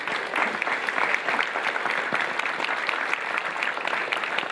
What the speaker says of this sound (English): Round of applause for Shu.